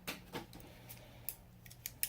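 The scissors on a Gerber multitool snip off excess material while a knee rover's handlebar grips are being fixed: a few faint, sharp, separate cuts close by in a quiet room.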